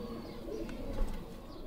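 A Sialkoti pigeon coos softly and low, a steady murmuring call close by with no other sounds over it.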